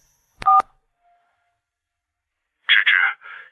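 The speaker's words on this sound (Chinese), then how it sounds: "卫星电话响了" A satellite phone gives one short, bright electronic ring burst, followed after a pause by a voice speaking.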